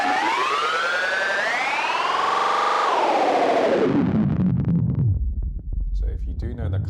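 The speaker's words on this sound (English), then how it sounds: "you might play with feedback delay effects like that to get sounds like this" Feedback delay effect in a sound-design demo: a loud, dense, smeared tone sweeps upward and then dives down into low, distorted, fluttering noise.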